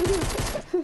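Rapid bursts of gunfire in the video game Fortnite, a quick run of sharp shots followed by a couple of sparser ones, fairly loud and close with no talk over them.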